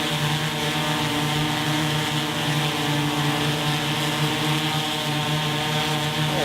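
A DJI Inspire 2 drone's propellers whir in a steady, loud, high buzzing drone as it comes in to land, close by and sustained without a break.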